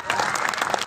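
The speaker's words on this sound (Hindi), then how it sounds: "वो लोग एक बार सम्मान में हाथ उठा करके ताली बजाएंगे।" A crowd claps in honour of Babasaheb Ambedkar at a devotional song programme, a dense loud wash of applause lasting under a second.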